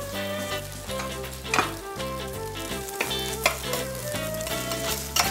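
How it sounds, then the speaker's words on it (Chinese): Garlic, dried shrimp and dried tofu fry in a pan over medium-low heat, a steady loud sizzle with occasional clinks and scrapes of stirring, no voices. "刚好都是中小火在爆香"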